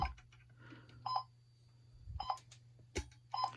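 Short electronic beeps from a Tiger Electronics Super Poo-Chi robot dog toy in test mode sound in a few separate bursts over a steady low hum, with faint clicks between them.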